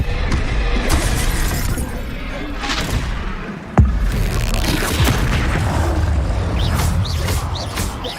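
A fire-casting Incendio spell from the Hogwarts Legacy video game bursts with a sharp crackling boom amid a dense, continuous wash of battle effects and magical blasts, loud and close throughout.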